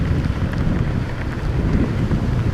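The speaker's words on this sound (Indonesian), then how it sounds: "ya hujan tapi masih nggak terlalu deras banget" Steady rain during a morning motorcycle ride through Balikpapan streets, a constant loud wash of rain and wind noise buffeting the microphone, no voices.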